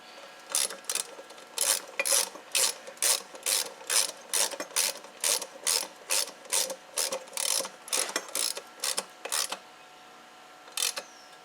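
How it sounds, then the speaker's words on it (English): A ratchet wrench is turned on a small 3hp Briggs engine while adding electronic ignition, giving about twenty crisp, evenly spaced clicking bursts close by, then a pause and one last click, with no talk. "And screw in a wrench."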